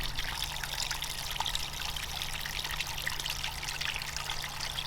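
Water trickles and splashes steadily down a backyard pond waterfall, a continuous close bright rush with a low steady hum beneath it.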